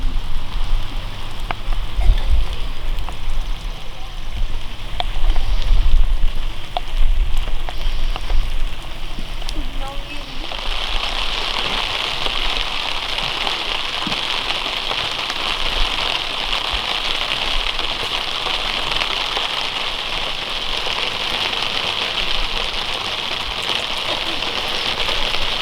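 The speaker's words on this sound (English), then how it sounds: "Made it nice and cozy to sit out here and enjoy the rain" Steady rain falls at Eagle Campground in Colorado, a dense, continuous patter of drops on surfaces that grows heavier and brighter midway and keeps going without a break.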